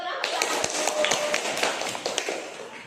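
Children in a classroom break into a short burst of brisk, close clapping, dense and uneven, holding fairly steady before tapering slightly toward the end.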